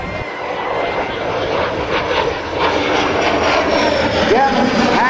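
L-39 Albatross jet flying a photo pass at an Air National Guard open house, a steady loud jet roar swelling slightly as it passes, with a public-address commentator talking over it throughout.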